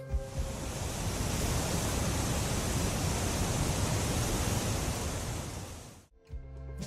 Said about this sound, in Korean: 이런 지금 들리는 물소리를 가만히 이렇게 좀 눈을 감고 들으시고 있으면